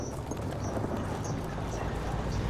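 Rapid, even horse hoofbeats clip-clop steadily in the video game Battlefield 1, under a dense, constant wash of background noise.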